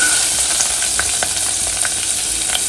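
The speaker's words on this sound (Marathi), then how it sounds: "जरा मिरची चांगली भाजू द्यायची तेलात" Chillies and curry leaves fry in hot oil, a loud, dense, continuous sizzle with faint crackles and light scraping, heard close and alone without speech.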